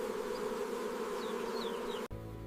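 Bees buzz among flowers in a steady, close insect drone that holds evenly for about two seconds before cutting off abruptly.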